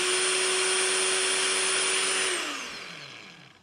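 A Lamello Classic X cordless biscuit joiner motor runs at a steady high whine, loud and close, then winds down smoothly as it shuts off near the end.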